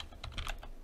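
A few quick, quiet keystrokes tap on a computer keyboard in a short burst while a UI element is set up in Unreal Engine 4.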